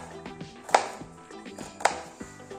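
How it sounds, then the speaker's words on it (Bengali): A knife chops ginger into small pieces on a board, two sharp chops standing out amid lighter taps and faint kitchen noise, close by and fairly quiet. "আদাগুলো ছোট করে টুকরো করে নিচ্ছি"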